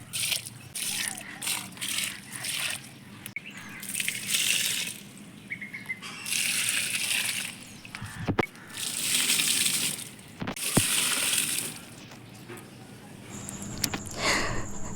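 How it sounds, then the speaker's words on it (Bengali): Water splashing and gushing onto potted plants on a rooftop in the morning, coming in repeated pours with sloshing and dripping, moderately near, with outdoor background noise between the pours. "আর আমি এই যে ছাদে সকালবেলায় গাছে জল দিতে আমি চলে এসেছি। আগে আমি গাছে জল দিয়ে নিই"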